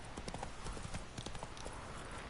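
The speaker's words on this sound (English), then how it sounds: "whoa there, Roach" Horse hooves clip-clop steadily in The Witcher video game, a quick, even rhythm of hoof strikes at moderate volume over a continuous game ambience.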